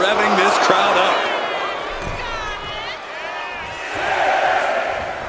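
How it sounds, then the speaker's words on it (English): Wrestling arena crowd in the WWE 2K26 video game roars and cheers as a steady loud wash, swelling near the end, beneath a commentator's voice. "And Nia is revving this crowd up."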